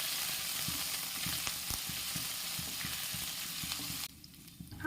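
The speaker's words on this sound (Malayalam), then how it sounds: "ആദ്യം ഇഞ്ചിയും കരിയാപ്പിലയും കൂടെ ചേർത്ത് പച്ചമുളകും കൂടെ ചേർത്തൊന്ന് മുപ്പിച്ച് കൊടുക്കാം." Ginger, curry leaves and green chillies sautéing in a pan for Kerala-style rava upma, a steady close sizzle with faint stirring clicks that drops away near the end.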